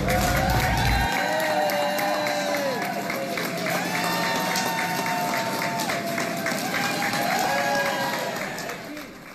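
A crowd at an airport cheers arriving Honor Flight veterans. Sustained clapping, whoops and shouts form a dense, lively roar with rising calls and a few higher voices throughout, easing slightly near the end.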